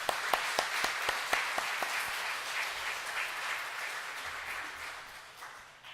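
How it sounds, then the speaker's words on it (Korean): Church congregation applauding during a worship service, a burst of distinct claps at first that thickens into a steady, fairly distant wash of applause and slowly fades toward the end. "하나님께 영광 올리라고 박수합니다."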